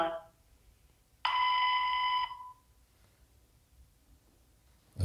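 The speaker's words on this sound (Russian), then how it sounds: "это звонок уже пришел на мобильный телефон" An incoming call on a mobile phone sounds a single electronic ring of about one second, a bright harmonic tone that stops abruptly amid near silence, with a faint click at the very end.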